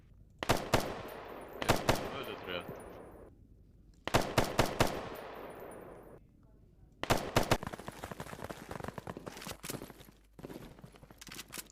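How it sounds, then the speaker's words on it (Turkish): Bursts of machine gun fire from a base during military play, with rapid repeated shots in three loud clusters separated by brief pauses, fairly near, with speech faintly present. "Bana sıkıyorlar ha. Nereden sıkıyorlar? Base'den sıkıyor, base'den."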